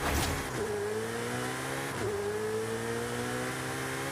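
Ferrari F8 launched from a standstill at a white-flag start line in Forza Horizon 5, engine revving hard with rising gear-change sweeps, a short tire squeal at launch, loud and close throughout.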